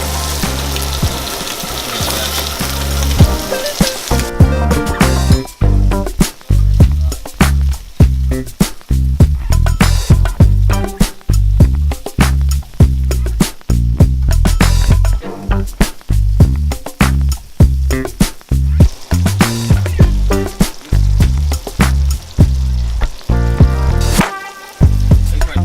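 Salted beef steaks sear loudly in a hot pan, a dense, close crackling sizzle with sharp spattering pops that carries on continuously; no talking is heard.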